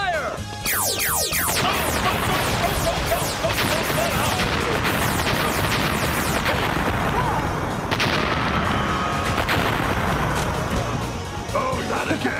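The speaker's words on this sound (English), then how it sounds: "Synergize our blaster mode. Turbo auto blaster. Fire!" Turbo auto blaster from Power Rangers Turbo firing a loud, sustained barrage of zapping blasts and booms, opening with falling laser-like sweeps and rolling on continuously for about twelve seconds.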